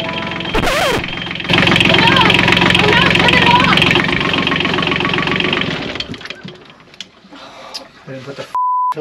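A newly installed boat engine cranks and fires with a burst of noise, then settles into a loud, rough idle with a knocking rhythm for several seconds before dying down, ending with scattered clatter and a steady beep.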